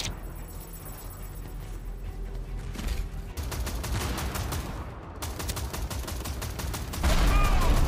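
Rapid, continuous gunfire rattles through a Tribes 3: Rivals match, dense bursts of shots stacking into a loud fusillade with booming impacts and a heavier blast near the end.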